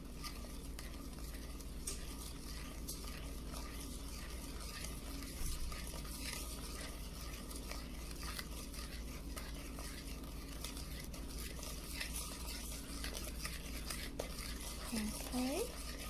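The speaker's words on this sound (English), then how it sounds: "Alright, so we'll add the vanilla now. And just mix that up a little bit." Vanilla being stirred into condensed milk cookie dough, soft repeated scraping and stirring in a bowl over a low steady hum, with occasional light utensil knocks and faint talk.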